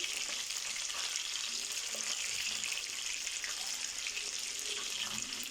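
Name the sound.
chapli kababs frying on medium heat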